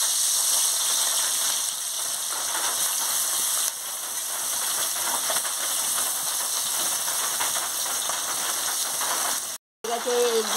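Small puti fish fry in hot oil in a wok, a loud continuous hiss and sizzle that holds steady throughout before cutting off briefly near the end.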